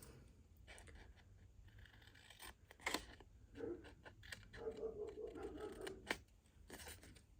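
Scissors snip paper while a Christmas card is being made, giving a few crisp close cuts and a short run of steady cutting midway, with soft talk around them.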